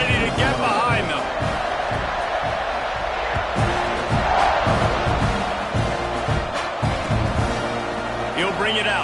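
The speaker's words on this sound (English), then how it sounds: "Kick it off, and this crowd now ready to get behind them." A football stadium crowd roars steadily at kickoff, a dense, continuous wall of cheering and shouts with a broadcast commentator talking over it.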